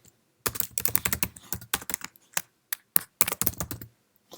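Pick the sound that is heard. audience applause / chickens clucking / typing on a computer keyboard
typing on a computer keyboard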